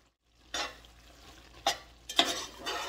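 Coconut drop mixture being stirred in a pot as it thickens and reduces, with three distinct scraping strokes against a soft background sizzle, close and fairly quiet.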